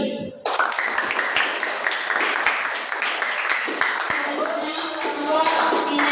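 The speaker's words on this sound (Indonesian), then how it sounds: "Tepuk tangan untuk kelompok" A classroom audience claps for a student group in a teacher-training session, a dense close burst of many hands that begins abruptly and keeps going steadily, with voices mixed in.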